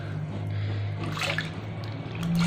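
Water poured into a pot of rice, carrot and potato for baby food, beginning as a soft trickle and building into a fuller splashing pour close by, with no speech.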